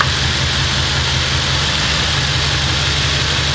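A car engine idles steadily with a good spark plug fitted after coil pack troubleshooting, giving a smooth, even, continuous low rumble close by with no talk.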